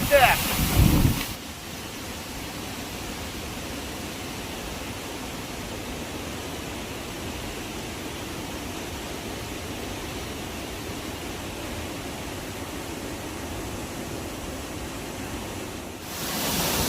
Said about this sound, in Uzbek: tagida hozir sharsharani suvlari urilib, juda ham ajoyib manzarani guvohi bo'lmoqdaman.